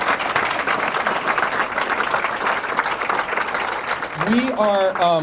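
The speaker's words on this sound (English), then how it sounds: "please, a round of applause for our teachers here at Meridian" Applause for teachers at a school solar panel ribbon cutting ceremony, a steady wash of clapping from a crowd that fills the clip, with a voice speaking over it and a brief whistle-like tone near the end.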